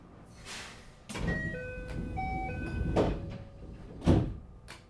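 Sliding doors close on a JR 521 series train, with beeping chime tones and the heavy thud of doors shutting, followed by a second knock a few seconds later.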